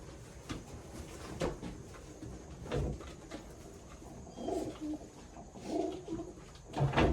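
A pigeon hen of Andalusian or opal coloring coos softly in several low, rounded bursts, close by and quiet, with faint handling noises between calls.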